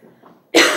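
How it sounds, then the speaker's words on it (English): A single loud, harsh cough bursts out close to the mic after a moment of faint background murmur. "the mic is right here where I'm coughing"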